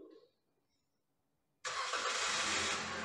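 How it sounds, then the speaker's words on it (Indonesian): A car engine cranks and catches abruptly, then settles into a loud, steady running roar after a brief quiet pause, during an automatic transmission fluid change. "Oke, kita nyalakan mobil dulu."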